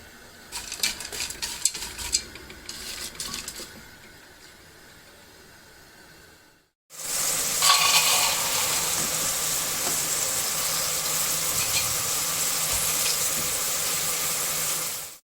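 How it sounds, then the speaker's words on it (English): Diced onions frying lightly in a pan, first with clattering utensil and stirring noises, then a steady loud sizzling hiss after the heat is turned up. "we're adding the diced onions and we are going to fry lightly for both the dishes"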